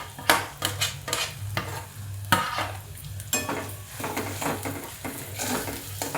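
Diced potato with green chili and salt being stirred and fried in a pan, with a soft steady sizzle under repeated scraping clinks of a utensil against metal, close and quiet, no talk.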